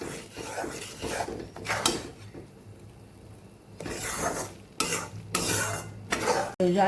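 Flour for mohanthal roasts in a pan and is stirred with a utensil, making bursts of rough scraping and rubbing strokes that come and go, close and fairly loud.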